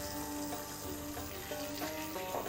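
Onion frying in a pan with ginger garlic paste while making chole: a steady, faint sizzle and crackle throughout, with no talking.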